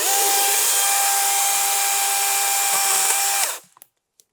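A chainsaw running at high, steady revs for a few seconds, loud and close, then cutting off abruptly into near silence.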